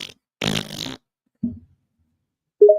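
A few short bursts of flatulence: a longer rasping one, then a brief low puff and a final short squeaky blip, close with silence between.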